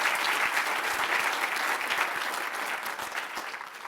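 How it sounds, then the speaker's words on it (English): An audience at a legislative breakfast gives a big round of applause, a thick, continuous roar of many hands at fairly loud level that holds steady and then tapers slightly toward the end. "So one big round of applause to wake us up this morning."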